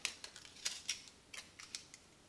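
Small scissors snip through a strip of fluffy false eyelashes, giving a run of quick, crisp, faint cuts close by, spaced irregularly with no talking.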